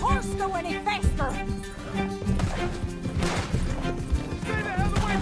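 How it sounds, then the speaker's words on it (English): A horse gallops in Red Dead Redemption 2, with rapid hoofbeats mixed into busy game sound, several neighs, and an occasional crash. Voices talk over the action. "Can't this horse go any faster?"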